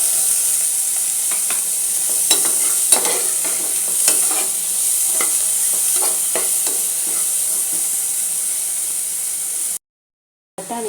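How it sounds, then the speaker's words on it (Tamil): Green peas sautéing in a pan for peas pulao, a continuous frying hiss with light crackles and occasional stirring clicks, close and with no voices, cutting to a brief silence near the end. "பட்டாணி 2 நிமிஷம் வதங்கினப்போ நம்ம அந்த ஊற வச்ச அரிசியும் சேர்த்தாச்சு."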